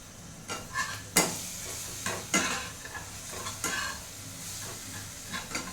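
Nestlé Milkmaid condensed milk goes into a pan of sizzling vermicelli sheer khurma for Eid; a low sizzle continues under repeated clicking, scraping stirs and light utensil knocks, close and with no voices.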